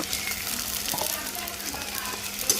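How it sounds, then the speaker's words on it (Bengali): Ginger-garlic and cumin paste fries in oil over onions in a pan for a meat curry, giving a continuous close crackling sizzle with a soft clack near the end. "আদা রসুন বাটা জিরা বাটা দিয়ে দিলাম এটা ভালো করে ভেজে নিব"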